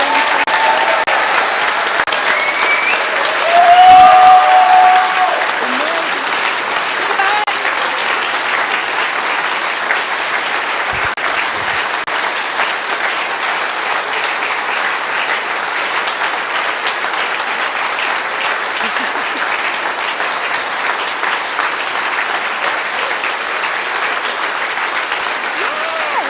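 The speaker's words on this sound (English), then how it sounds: "What a huge big clap that was, wasn't it?" Audience applause after a stage performance, sustained loud clapping from a sizeable crowd that runs steadily for over twenty seconds with a brief swell near the start.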